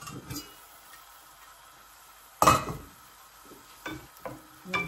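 Pork cooking for dinuguan, browning in a pan as it releases its own fat, gives faint low sizzling with a loud stirring scrape near the middle and a few more clinks and scrapes toward the end.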